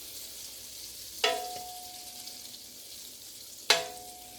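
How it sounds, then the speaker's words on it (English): Pork spareribs go into a hot, deep electric skillet with two separate sharp bursts of sizzling, each fading into a quieter, steady fry. "And we are going to sear these ribs."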